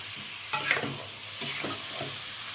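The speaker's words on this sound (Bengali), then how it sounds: "এই ভালো করে কষিয়ে নিচ্ছি মশলাটা" Potatoes and bori fry in a spice paste for a Bengali shukto and are stirred, giving a soft steady sizzle with a few scraping strokes of a spoon in the pan, close and quiet, with no talking.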